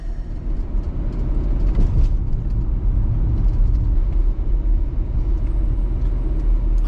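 An RV drives along a road between Elkton and Havre de Grace in Northeast Maryland, giving a steady, loud low rumble of engine and tyre noise that carries on continuously with no talking.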